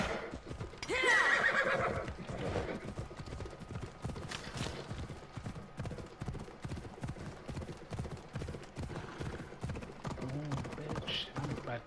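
Horse in the Assassin's Creed Odyssey video game neighs loudly near the start, then its hooves gallop in a fast, rhythmic clip-clop that carries on under game sounds and occasional talk.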